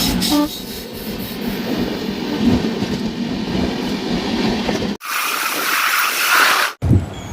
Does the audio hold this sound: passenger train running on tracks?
yes